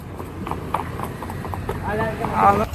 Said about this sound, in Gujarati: ઓલા બે ઘોડા આવે છે આપણા